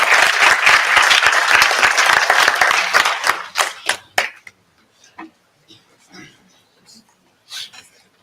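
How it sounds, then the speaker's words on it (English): A summit audience at a college gives a loud, dense round of applause for an arriving poet, which thins into scattered claps and fades out after about four seconds. "I'd like for you to just give him a round of applause as he comes."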